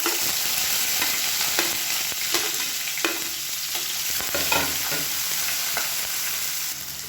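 Chopped onion with curry leaves and spices sautéing in oil in a pan for a kulambu, a steady close sizzle with repeated scraping stirs of a spoon throughout.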